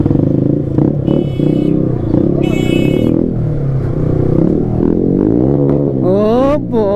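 A modified Bajaj Pulsar N160 motorcycle exhaust at a station roars loud and close with a steady, rough drone, rising and falling revs and a sharp whine toward the end, with bits of voices underneath.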